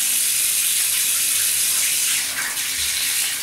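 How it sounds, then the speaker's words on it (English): Tap water runs steadily into a bowl for a home evaporative cooling demonstration, a continuous close splashing gush that dips slightly near the end, with no talking. "I'm just going to run a little bit more water into that"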